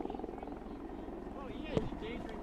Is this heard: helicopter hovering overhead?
yes